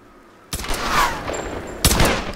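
Two sharp gunshot bursts ring out in the Tomb Raider video game, fired at a hanging lantern, each one loud and followed by a short echoing tail.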